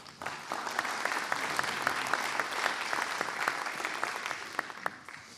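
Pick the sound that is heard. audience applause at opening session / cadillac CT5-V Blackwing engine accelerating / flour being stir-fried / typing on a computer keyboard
audience applause at opening session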